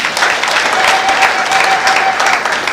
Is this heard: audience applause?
yes